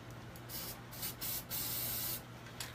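A can of spray paint hisses in several short bursts and one longer spray, close and loud against a low background hum, with no talking.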